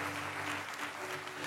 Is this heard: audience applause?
yes